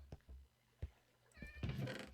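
A Minecraft cat gives a short, fairly faint meow near the end, preceded by a few soft taps and clicks in an otherwise quiet scene.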